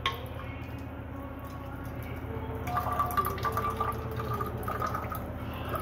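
Water from an alkaline ionizer with titanium-platinum coated plates pours into a container, a quiet steady trickling and filling over a low hum, with a brighter splashing stream toward the end.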